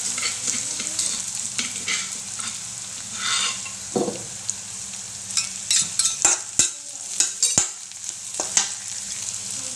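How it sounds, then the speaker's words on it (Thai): Ingredients for a spicy mushroom stir-fry sizzle in a pan while being tossed until golden, a steady close crackle broken by repeated scraping knocks of a spatula against the pan, no voices. "ผัดให้เหลืองนะะ"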